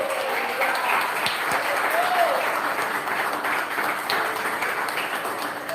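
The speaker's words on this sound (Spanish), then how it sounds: "Dale ese aplauso a Él." Sustained applause from a church congregation, a dense even wash of many hands clapping at steady loudness, with voices mixed in underneath.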